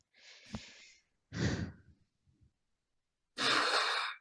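Two slow breaths, a long inhale and then a heavy sighing exhale, close and quiet, separated by near-silence and a faint small sound in between.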